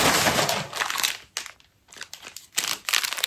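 An extra plastic parcel package crinkles and rustles while being opened during an unboxing of a Temu order, with bursts of close, loud crackling separated by brief pauses and no talk.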